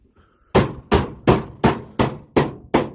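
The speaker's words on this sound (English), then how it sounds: "Just need to hammer this around a bit more." Seven sharp, evenly spaced hammer blows ring out on a metal piece being shaped for a Thwaites 6-ton dumper restoration, each strike loud and close with a short decaying ring, no talking.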